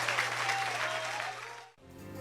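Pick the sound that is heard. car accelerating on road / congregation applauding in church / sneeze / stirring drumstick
congregation applauding in church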